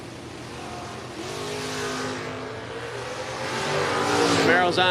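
A Camaro drag racing car accelerates hard at a Mutt and Jeff Fall Brawl drag event, its engine roar building in pitch and loudness toward the end, with crowd noise and announcer-style talk underneath.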